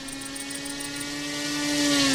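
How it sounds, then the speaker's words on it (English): A P-51 warplane engine in the RealFlight RC plane simulator whines with a buzzy, droning tone that steadily rises in pitch and grows louder as the throttle opens. "Alright, let's fly P-51 here."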